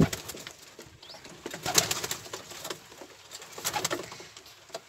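A large pigeon chick coos close by in a loft, with bursts of flapping wings and light rustling between the calls.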